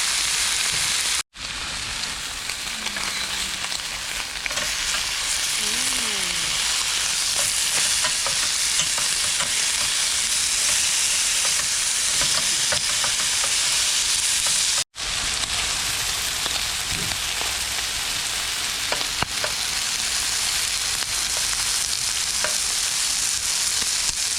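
Pork ribs and patties sizzle steadily in a hot pan at a campsite, a continuous crackling hiss with occasional pops, broken by two brief cutoffs.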